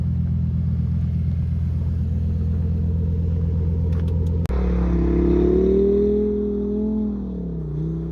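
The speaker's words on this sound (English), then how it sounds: "we were absolutely thrashing these cars" Lamborghini engines work hard on a frozen, snow-covered lake: a steady droning rumble cuts off abruptly, then a higher revving engine note rises and swoops up and down as the car slides.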